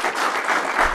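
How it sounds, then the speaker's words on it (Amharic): An audience claps briefly at a live event, a dense burst of applause close by. "የኔ ጌታ አጨብጭቡለት።"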